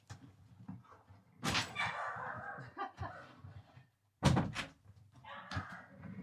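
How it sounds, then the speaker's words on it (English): A door is shut indoors with a sharp knock and thud partway through, amid muffled scraping and handling noises, while a dog can be heard in the background. "I'm going to shut the door."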